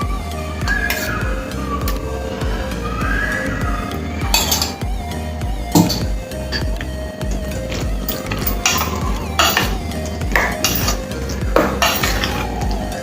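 Cucumber and curd chutney is stirred in a bowl, with a spoon scraping and clinking against the dish in quick, irregular strokes, loud and close, with no voices.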